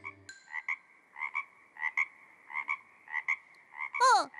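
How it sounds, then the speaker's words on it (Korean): Frogs croak in a regular, evenly spaced rhythm of paired calls, loud and close against silence, ending with a sharp squeaky call. "개구리가 자꾸 떠들어서 잠을 못 잤어요."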